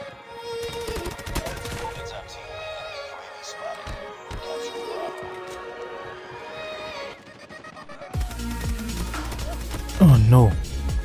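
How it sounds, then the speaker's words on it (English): Automatic sentry gun fire in COD Mobile during a ranked match, rapid bursts of shots mixed with game effects and a player talking over it, with a louder burst near the end. "No, the sentry gun."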